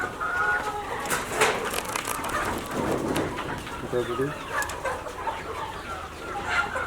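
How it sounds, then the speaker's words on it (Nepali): Local-breed chickens raised for sale on a farm cluck and call throughout, mid-distance, while a person talks over them. "हाम्रो बिक्रीका कुखुराहरू, बिक्रीका बिक्री बेच्ने कुखुराहरू यहाँ"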